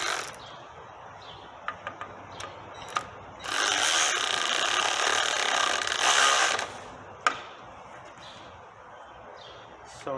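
A wrench works squared-off studs on a car bell housing, giving scattered close metallic clicks and taps, then a dense few seconds of loud grinding ratchet noise, with another sharp click afterward.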